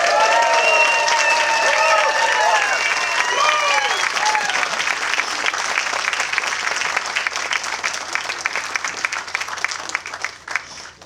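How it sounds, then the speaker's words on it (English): A crowd at a celebration of life cheers loudly, with high whoops and shouts over dense clapping at first, then settles into sustained applause that slowly fades. "I invite you to join me in giving a cheer for Abby"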